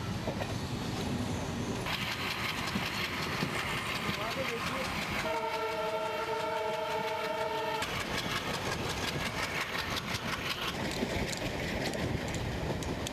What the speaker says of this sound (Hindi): विज्ञान मंथन एक्सप्रेस कन्याकुमारी की ओर चल पड़ी।